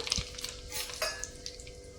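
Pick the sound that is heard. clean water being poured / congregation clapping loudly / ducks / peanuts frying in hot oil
peanuts frying in hot oil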